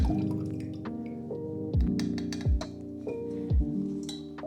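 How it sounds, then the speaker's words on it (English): Leftover paper mache paste pours into a glass jar, heard as a close run of wet, thick glugs and drips, with several heavier plops landing at a steady pace. "Don't dump it, just pour it in the glass jar."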